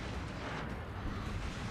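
USS Arizona battleship firing salvos in World of Warships Legends on Xbox Series X, heard as a dense, continuous rumble of heavy booms that stays loud and steady throughout.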